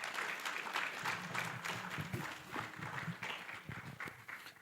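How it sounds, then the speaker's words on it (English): A conference audience applauds panel members at the close of a panel session, a steady wash of many hands clapping at moderate distance, with faint voices murmuring beneath. "can you give a round of applause to the members?"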